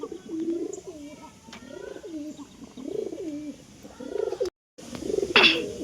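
A pair of healthy pigeons coo in a steady run of low, rolling calls, close and clear, with a brief dropout near the end followed by a sharper, higher chirp.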